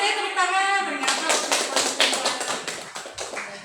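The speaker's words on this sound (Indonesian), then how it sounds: "Boleh deh tepuk tangan." A crowd applauds at a teacher training session, a burst of dense hand clapping that swells in after a brief voice and continues steadily, close and fairly loud.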